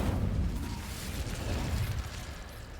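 A fiery spell burst from the Hogwarts Legacy wizarding game: a dense, rumbling whoosh of flame that roars steadily for about three seconds, loud and close, with heavy low-end rumble and no clear pauses.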